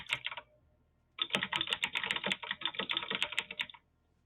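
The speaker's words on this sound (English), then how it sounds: "Damn, I can hear that keyboard." A computer keyboard is typed on nearby in quick, irregular bursts of clicky keystrokes: a short flurry, a pause, then a longer run of rapid typing that stops abruptly, with no talking.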